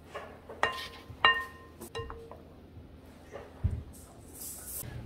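Pancake batter being folded and mixed in a bowl, a few bright clinks of a utensil against the bowl rim spaced a second or so apart, then softer scraping and a muffled knock, close and fairly quiet.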